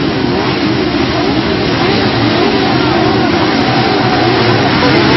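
Race car engines rev hard together on the starting grid, a loud, dense and steady roar that holds for several seconds with no gaps.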